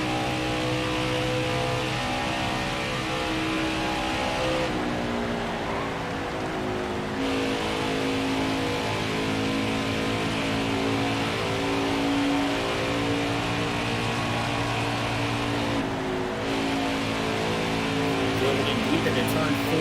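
A NASCAR Xfinity race car from the NASCAR Heat 5 game drones loudly around Indianapolis, its engine holding a steady high-revving whine with brief shifts in pitch, continuous and close throughout.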